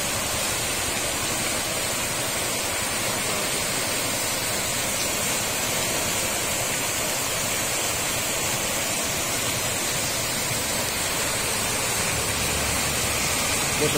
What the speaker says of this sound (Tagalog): Ayan, tingnan mo, lakas pa lang ang tubig eh.